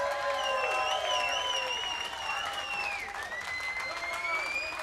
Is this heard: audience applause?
yes